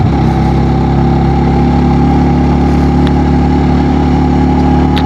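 A motorbike engine pulls steadily in second gear on a mountain road toward a valley, a loud continuous drone with a constant low hum and no speech.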